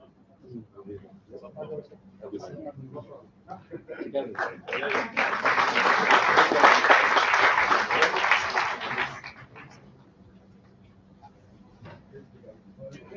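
Audience applause for participants at a national science and engineering conference, swelling into loud sustained clapping for several seconds after talk, then fading back to a quieter murmur.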